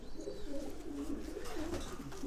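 Homing pigeons in a loft give soft, repeated low cooing, a steady wavering burble close to the microphone with no break.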